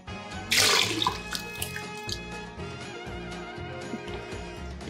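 Cola pours over a spice-rubbed, oiled pork roast in a cooking pot, starting with a loud gushing splash that settles into a steady bubbling trickle, close and alone.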